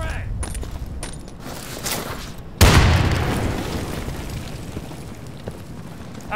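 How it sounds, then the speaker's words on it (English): A frag grenade goes off in the tactical shooter Insurgency, a single loud, sudden blast about two and a half seconds in that rumbles and decays slowly, with gunfire and shouting voices before it. "I'm throwing a frag!"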